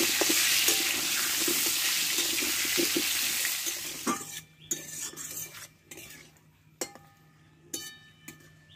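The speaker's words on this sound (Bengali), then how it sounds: "পটলটা ভালোভাবে কষে নেবো" Pointed gourd (potol) pieces frying in oil in a pan: a loud sizzle with stirring for about four seconds, then the sizzle drops away, leaving sparse utensil clinks and knocks.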